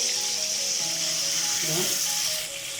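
Pita bread frying in a covered pan, a soft steady sizzle beneath a voice talking over it.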